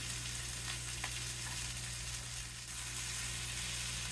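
Breaded chicken frying in butter in a pan, a constant dense sizzle with a low steady hum underneath and a few faint clicks, quiet and unbroken.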